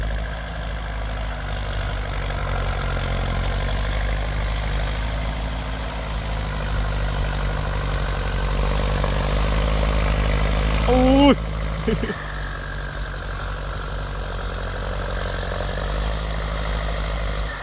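A 7610 turbo tractor engine runs steadily up close as a loud low rumble, with a brief whine and clunk partway through before the drone settles again; someone talks over it.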